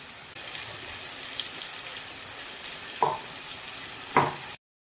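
Ground masala paste sautéing in a pan for Tamil-style mutton curry, a steady close sizzle with two brief clinks of a spoon against the pan.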